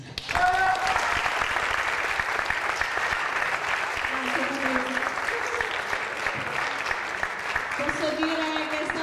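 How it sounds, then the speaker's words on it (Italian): An audience applauds at the dance section awards of a Turin live festival in 2008, sustained clapping throughout while a presenter talks over it and some music plays underneath. "Posso chiedere un applauso per Sandrina Pinas?"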